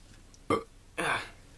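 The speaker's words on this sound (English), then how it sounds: "like you got a burp and you just can't get it out" Two short, close burps, the second longer and throatier, come half a second apart against a quiet background.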